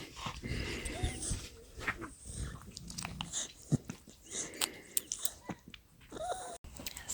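Dog on a farm, heard close up indoors, sniffing, panting and small whimpering noises with brief mouth sounds, fairly quiet and uneven, beside a newborn piglet wrapped in a towel.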